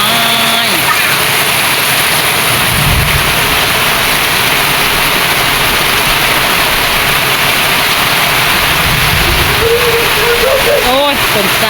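Heavy rain pours over a fruit orchard in Trat province, Thailand, a loud, dense, unbroken hiss from start to finish, with a voice speaking briefly near the end.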